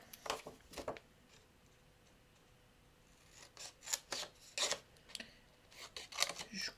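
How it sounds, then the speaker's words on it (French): Scissors snipping paper tabs at a bevel for a crafted explosion box, a few close crisp cuts and rustles, quiet and separated by pauses. "Je coupe ma languette et je coupe en biseau, tout simplement."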